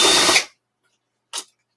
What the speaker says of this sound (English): Take out all of these outside screws.